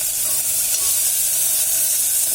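Capsicum sautéing in a hot pan for brinjal pulao gives a loud, even hiss of oil sizzling, close and unbroken for a couple of seconds.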